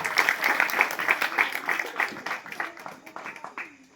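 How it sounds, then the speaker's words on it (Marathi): Audience clapping at a prize-giving ceremony held by a local friends' club, a steady patter of hands running for several seconds and tapering off near the end, with an announcer's voice calling out over it. "टाळ्या वाजवा, टाळ्या वाजवा."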